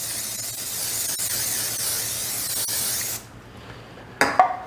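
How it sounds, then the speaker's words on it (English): Cooking spray hisses from a can onto a bread loaf pan in a steady, close aerosol burst lasting about three seconds, then stops, followed by a brief clatter. "I'm going to take my bread loaf pan and I'm going to spray it"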